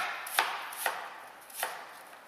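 A knife dices apples on a cutting board with three crisp, separate chops at an uneven pace, close and fairly loud, with quiet gaps between them.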